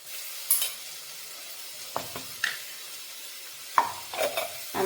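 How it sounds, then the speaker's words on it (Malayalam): Ginger garlic paste stir-fried in a pan, a faint sizzle underneath sharp, intermittent scrapes and taps of a spoon against the pan, about half a dozen strokes, close by and alone without speech. "നമുക്ക് നന്നായിട്ട് ഈ ഇഞ്ചിയുടെയും വെളുത്തുള്ളിയുടെയും ആ പച്ച മണം ഒന്ന് മാറുന്നിടം വരെ ജസ്റ്റ് നമുക്കിങ്ങനെ ഒന്ന് ഇളക്കി കൊടുക്കാം."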